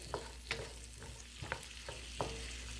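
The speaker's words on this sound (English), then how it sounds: "Saute these down just a bit." Vegetables sautéing in a pan, a soft steady sizzle with a few sharp utensil taps and scrapes at intervals, close and quiet, no voices.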